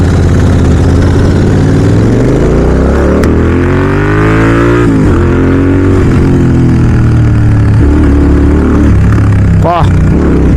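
Royal Enfield GT650 twin fitted with a Red Rooster aftermarket exhaust idles close by, a loud, steady rumble whose pitch drifts up and down with small blips of throttle throughout.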